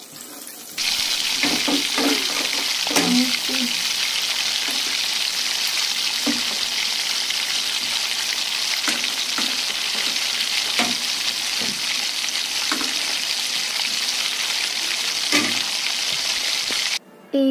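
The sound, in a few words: chicken frying in a pan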